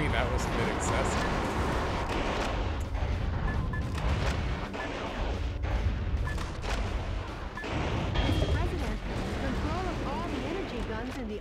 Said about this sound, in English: it's really unfortunate that that huge ass explosion just hit me